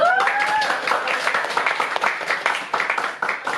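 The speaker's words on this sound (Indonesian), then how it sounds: "kasih tepuk tangan dulu" Audience applause in a classroom session on employee leave, brisk clapping from a group of people after a faint tonal sound at the start, fairly close and continuing to the end.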